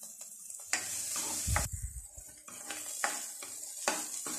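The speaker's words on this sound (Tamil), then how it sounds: "10 மினிட்ஸ் வரைக்கும் நம்ம அதை வதக்கணும். அப்போ தான் நல்லா ப்ராப்பராக ஃப்ரை ஆகி வரும்." Radish frying in a pan as a stir-fry, with a soft sizzle broken by repeated close scraping and clanking of a spoon against the pan in an uneven rhythm, no talking.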